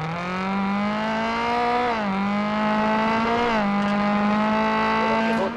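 A car engine in a racing video game revs steadily, its pitch dipping and climbing again twice as gears shift, loud and continuous with no talking.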